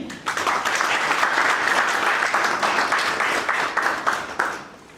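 Sustained audience applause fills a graduation ceremony hall, dense and steady clapping from a large crowd for about five seconds, tapering slightly at the end.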